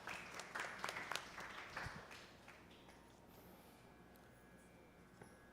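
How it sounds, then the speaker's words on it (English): Audience applause at a Krishna temple Sunday service, a burst of scattered clapping for about two seconds that fades into quiet room tone. "Give Srivan a round of applause."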